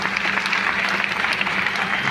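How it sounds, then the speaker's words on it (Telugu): Audience applause fills a hall, a steady dense patter of many hands clapping close and loud throughout, with no break and no talk over it. "దీనికోసం గ్రేట్ క్లాప్ చేయొచ్చు"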